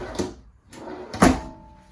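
A pot and pan drawer beneath the oven in a 2020 Keystone Avalanche 320RS RV is worked, giving three quick knocks and slides close by, the last one loudest, in a quiet interior.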